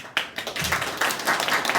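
A congregation at a Sunday church service claps to welcome a pastor, giving a short burst of close, busy applause that lasts under two seconds.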